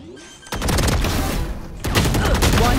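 Rapid bursts of gunfire from the tactical shooter video game Valorant: a loud, dense volley starting after a brief quiet moment, then a second heavy burst near the end, with faint voice underneath.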